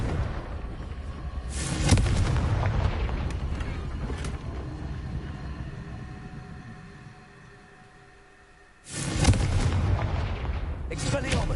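Confringo fire-spell blasts in the Hogwarts Legacy video game, two loud booming bursts with a rumbling tail fading between them, mixed with game speech.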